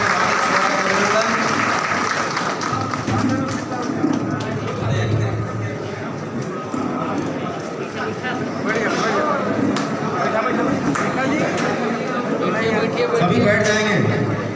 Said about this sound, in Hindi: जोरदार तालियों के साथ हार्दिक स्वागत अभिनंदन